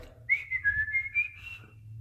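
A loud fingerless whistle made with the lips alone, a single bright sustained note that wavers and slides slightly in pitch for about a second and a half, close and clear over a low background hum.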